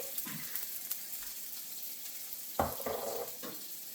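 Onions frying in hot oil about a quarter inch deep in a pan, giving a soft steady sizzle with a few sharper pops and stirring scrapes.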